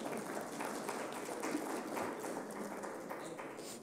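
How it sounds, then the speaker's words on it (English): Faint, distant applause from the audience at a panel discussion, a soft continuous patter of many hands clapping that holds steady throughout. "Give her a round of applause."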